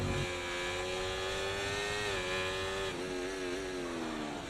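A Haas F1 car in the F1 24 video game screams at high revs around the Australian Grand Prix circuit, its engine pitch rising steadily, then dropping sharply twice as it brakes and downshifts, loud and close, with no talking.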